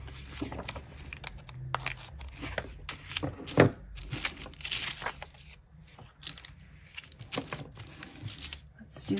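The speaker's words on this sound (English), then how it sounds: "I'm gonna cut off these edges." Scissors snip along the edges of PET decorative tape on a planner spread, a series of short crisp cuts and crinkles close by, with some quiet handling noise between.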